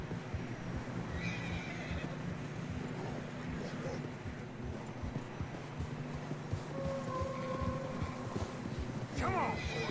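Horses in the video game Red Dead Redemption 2 whinny several times over a continuous background of hooves and movement through snow, with a loud final neigh near the end.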